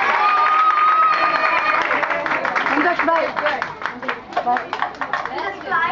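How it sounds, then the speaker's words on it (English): Children in a classroom clap for themselves after singing a rhyme, loud scattered claps mixed with excited shouting and chatter, growing more uneven toward the end. "clap for yourself"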